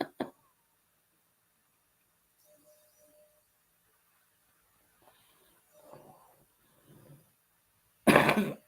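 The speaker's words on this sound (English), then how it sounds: "I'm sorry for this stupid coughing." A few dry coughs, one short burst at the start and a louder one at the end, with faint quiet sounds in between.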